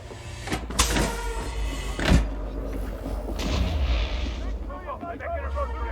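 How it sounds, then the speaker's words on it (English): Grenades explode during a raid mission in the video game Elite Dangerous Odyssey: several heavy, close booms in quick succession with a rumbling roar between them. "But they sure do like to chuck grenades, don't they?"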